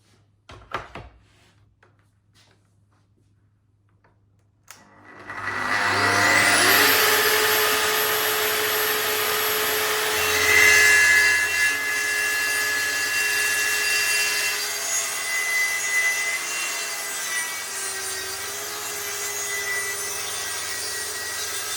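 A power saw rips through a solid oak board, 27 mm thick, in a 10 mm pass. After a few faint knocks, the motor spins up to a loud, steady whine with a sustained cutting drone that runs to the end, with no talking.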